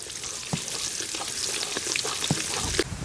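Mustard seeds and urad dal frying in cold-pressed sesame oil, a steady close sizzle with scattered sharp pops and crackles from the seeds throughout.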